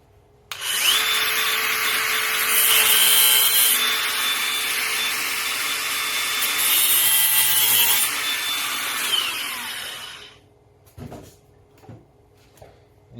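A metal file rasps a cross notch into a nail while a garden tool handle is being replaced. The stroking is loud, close and continuous for about ten seconds, then gives way to a few sharp taps and knocks.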